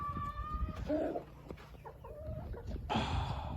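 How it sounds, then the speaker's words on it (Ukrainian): Wyandotte hens in a barn cluck and squawk nearby, with several short, throaty calls and a louder burst near the end over a low rumbling background. "тут зараз живуть наші віандоти, наші курочки"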